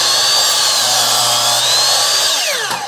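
A Ryobi chop saw cuts a 45° angle through wood, its motor screaming loudly and steadily for the whole stretch as the blade passes through the board, then beginning to wind down at the end.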